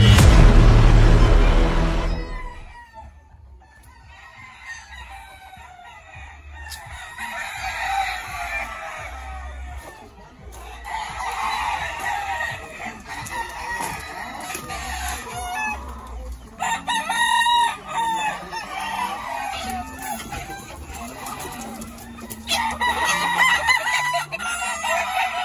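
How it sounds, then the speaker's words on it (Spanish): Fighting gamecocks crow repeatedly, loud and near, with several overlapping cock-a-doodle-doo calls ringing through a busy yard after a sharp burst at the start. "artesanos del gallo fino"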